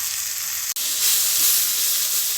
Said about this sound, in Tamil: இப்போ இது கொஞ்சம் நேரம் நம்மளுக்கு நல்லா வதங்கட்டும்